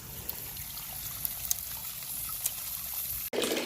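Water runs steadily into a container with a constant rushing trickle, then briefly cuts off near the end before flowing again.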